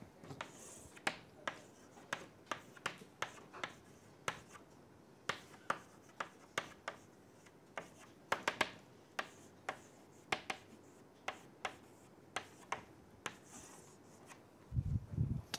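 Chalk or marker writing out a matrix expression on a board during a lecture: a steady series of crisp taps and short strokes, fairly close, with brief pauses between bursts and no talking.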